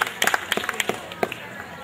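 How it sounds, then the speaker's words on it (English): An audience claps to welcome a debate speaker during an English class event, with a short burst of sharp, scattered handclaps that quickly thins out into a few isolated claps. "Clapping once again."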